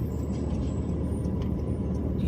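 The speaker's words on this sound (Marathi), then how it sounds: "तो ट्रक येतोय आता, जरा पुढे घ्या, ट्रकला जाऊ दे." A truck goes by on a rural road near Pimpud in Satara, Maharashtra, a fairly quiet, steady low rumble of engine and tyres heard from inside a vehicle, with no voices.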